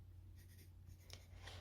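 Faint, scratchy marks being made on watercolour paper, a few short strokes over a low steady background hum.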